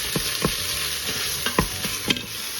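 Okra stew mixture whisked and stirred in an Instant Pot, a constant hissing sizzle with repeated scraping strokes of the whisk against the pot bottom at an uneven rhythm.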